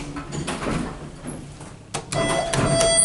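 A Mowrey hydraulic elevator door at a hotel slides shut with a rumbling roll and a soft thump as it meets the frame, followed by a short high electronic tone.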